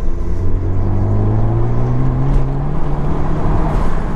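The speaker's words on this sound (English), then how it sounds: "this is like my first time driving the ST this weekend" A 2016 Ford Focus ST engine droning steadily while driving, a loud, close cabin rumble with a rising tonal hum and road noise, no talking.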